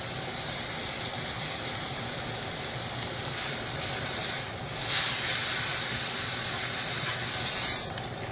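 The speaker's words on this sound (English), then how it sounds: "You're searing and locking in all the juice into the meat." Beef brisket sears in a hot pot, a steady, even hiss and sizzle that runs unbroken throughout, with a couple of brief louder spurts and no voices.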